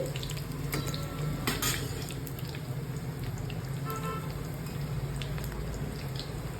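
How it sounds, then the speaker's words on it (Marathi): Masala mathri frying in oil on medium-low heat, giving a steady, close, even bubbling sizzle that carries on without pause. "आपल्याला मीडियम स्लोवरती ह्या तळून घ्यायच्या आहेत कारण ह्या खुसखुशीत झाल्या पाहिजे"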